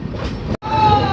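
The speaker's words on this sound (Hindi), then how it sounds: "चलो जी प्लेटफॉर्म से अराइवल लेते हैं" The Andhra Pradesh Sampark Kranti Express pulls into a platform at Bhopal Junction with a loud, steady rumble of wheels and rolling stock, close by. A faint squeal rises near the end and there is a brief cut midway.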